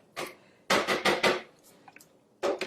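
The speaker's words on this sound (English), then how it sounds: "We're going to stop and just scrape down the bowl." A spatula scraping and knocking around a plastic food processor bowl in a few short bursts, close and fairly quiet, with silent pauses between strokes.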